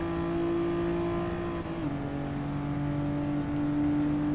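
A Renault Clio race car engine droning at steady revs on a lap of Catalunya, a near, even in-car tone that dips briefly at a gear change and carries on without talk.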